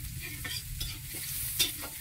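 Freshly picked oyster mushrooms are stir-fried in a one-handled wok, with a steady sizzle broken by repeated spatula scrapes and stirs, close and moderately loud, with no talking.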